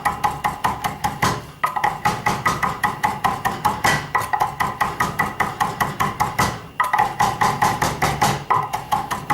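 A knife chops fresh herbs such as parsley or basil on a cutting board, with a fast, steady run of sharp close taps that pauses briefly twice before resuming.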